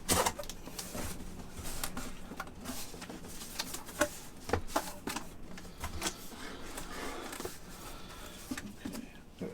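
A Bluetti EB70S portable power station lifted out of its packaging box, with steady crinkling, rustling and scraping of cardboard and foam, close by and continuous, while someone talks occasionally.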